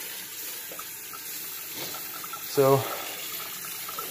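A container is rinsed under a running kitchen tap, a soft steady trickle of water with a brief louder splash near the end, while a person speaks a word.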